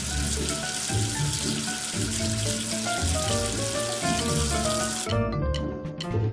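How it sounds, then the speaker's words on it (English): Running water from a tap rinsing soap away in a kids' education app game, a steady full splashing stream with a faint sizzle-like hiss, joined by light musical tones, ending in a brief quieter tail. "Wash away the soap with water."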